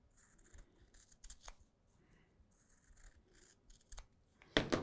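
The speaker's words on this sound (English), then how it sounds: "I'm going to cut this out." Scissors snip through quilted fabric for a wine tote in a series of short, quiet cuts with pauses between, close by, ending in a louder rustle of the material being handled.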